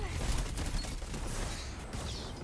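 Rapid automatic gunfire from the video game Destiny 2, a dense continuous burst of shots with mechanical clatter filling the whole moment, loud and steady.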